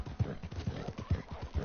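A horse in the Red Dead Redemption II video game gives a short neigh over rhythmic clip-clopping hooves, close and fairly loud, with no speech.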